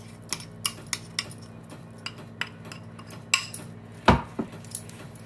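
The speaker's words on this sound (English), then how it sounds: "I'm going to transfer all these in a big bowl so I can stir it well." Metal spoon clinks and scrapes against a big bowl while palak kabab mixture is stirred, giving a string of sharp, close taps with one louder knock near the end over a steady low hum.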